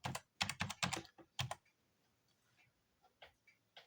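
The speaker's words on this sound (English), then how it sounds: "it's because I'm typing this guy's name in" Someone types in short bursts on a computer keyboard nearby, a quick flurry of crisp key clicks followed by a quiet pause and a few scattered taps, with no talking.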